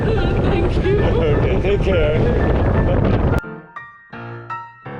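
Strong, gusty wind buffets the microphone with a loud, continuous roar during a seaside walk in Moalboal, Philippines, cutting off abruptly partway through and leaving quieter intermittent bursts.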